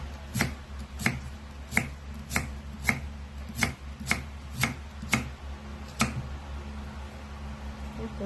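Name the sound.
knife cutting jicama (singkamas)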